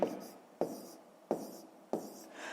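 A pen writes numbers on paper in four short scratchy bursts, close and quiet, spaced at a steady rhythm.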